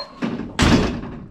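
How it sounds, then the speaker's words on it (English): Two solid thuds in quick succession as a classic car's door is shut firmly, close by with a short ringing decay. "The door still opens and closes"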